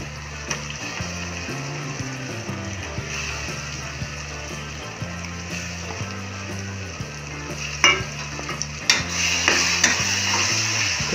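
Coarsely ground masala sautéed in a pan for mutton biryani, a loud continuous sizzle with steady stirring and scraping, a low rhythmic motor-like hum underneath, and a brief splash of intensified frying toward the end.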